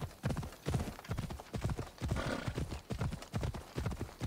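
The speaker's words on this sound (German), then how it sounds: "Ach, das Pferd." A horse in the video game Assassin's Creed Odyssey gallops with a fast, regular drumming of hoofbeats, close and loud throughout, with a brief whinny midway and no talk.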